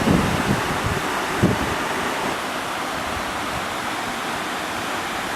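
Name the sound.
Xorroxin waterfall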